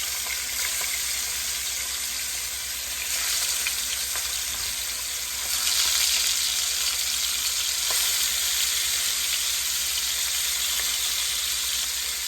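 Fish curry of shol and mrigel fish with beans, potatoes, eggplant and tomato sizzling and frying steadily in a pan, a constant close hiss with faint stirring, no talk.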